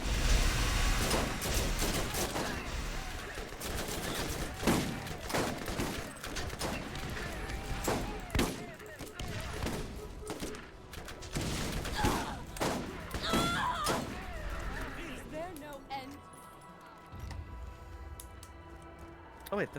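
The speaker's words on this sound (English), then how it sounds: "How are y'all hitting us with machine guns like that?" Machine gun fire in the video game Borderlands crackles in fast, uneven bursts for most of the stretch, loud and busy beneath a player's talking, thinning out near the end.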